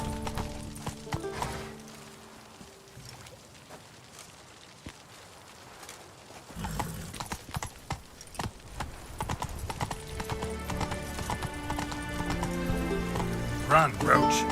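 Hooves of a galloping horse in the video game The Witcher 3, a quiet stretch and then a rapid, steady clip-clop rhythm building loudly under spoken dialogue and background music.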